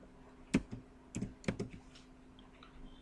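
Typing a tag name into SCADA software on a computer keyboard, a handful of close, irregular key clicks over a quiet room with faint hum.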